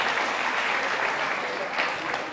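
Classroom applause after a player correctly finishes the third level of a letter-spelling game, a steady broadband patter of many hands lasting a couple of seconds, fairly close.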